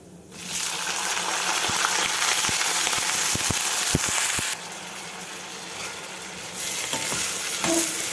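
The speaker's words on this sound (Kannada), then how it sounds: "ಈಗ ಇದಕ್ಕೆ ಹೆಚ್ಚಿಟ್ಕೊಂಡಿರೋ ಬಾಳೆಕಾಯಿ ಹಾಕ್ಕೊಳ್ಳೋಣ" Chopped raw banana tipped into a pan of sizzling urad and chana dal tempering: a loud steady frying hiss with several sharp clinks and taps of a spoon against the pan, then continued stirring.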